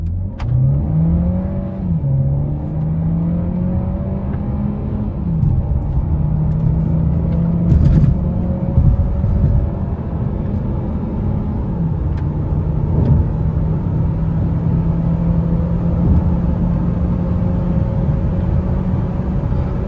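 A 2024 Skoda Superb 1.5 TSI Mild Hybrid in sport mode accelerating hard on a flat road up to 160 km/h, engine drone rising through gear changes beneath steady road and wind rumble inside the cabin.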